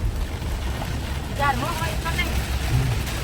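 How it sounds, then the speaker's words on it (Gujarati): Storm wind blows in a steady, broad roar during a windstorm with rain, with brief voices speaking partway through. "પવન સાથે વરસાદ જ"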